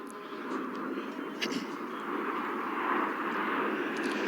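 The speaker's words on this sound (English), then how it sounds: "Now as the jets move off to the left-hand side with Diamond complete" RAF Red Arrows jets fly overhead at the Cosford airshow, a broad, rumbling jet roar that swells gradually toward the end, with faint crowd sounds and a distant announcer voice underneath.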